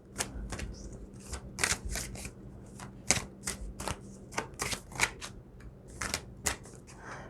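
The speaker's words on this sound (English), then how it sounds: "I'm going to keep shuffling." Tarot cards are shuffled in quick, crisp riffles and slaps, a rapid irregular series of papery snaps up close, with no talking.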